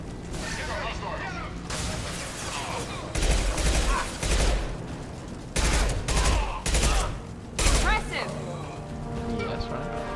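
Bursts of gunfire from the Mass Effect video game crackle in repeated volleys behind someone talking, the shots coming in rapid clusters at moderate volume.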